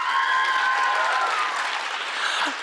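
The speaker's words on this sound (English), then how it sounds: "if we could just hold the applause until everyone comes up on stage" Audience applause at a youth ballet competition awards ceremony in Salt Lake City, a dense steady wash of clapping from a large crowd that gradually thins toward the end, with faint tonal sounds underneath.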